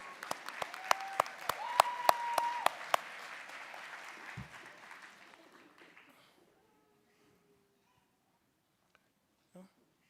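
Audience applause at a nursing school graduation pinning ceremony, a dense patter of many hands with sharper individual claps on top, fading out over several seconds into near silence.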